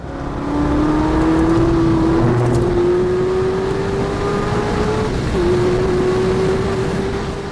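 Corvette ZR1 engine at full throttle on the Nurburgring, a loud, sustained high-revving drone climbing steadily in pitch, with a brief dip near the end as the gear changes, then pulling on again.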